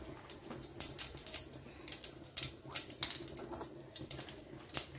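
Mustard seeds crackling and popping in hot oil in a pan with shallow-fried potato slices and okra, a steady busy sputter of small close pops and sizzle with no talking.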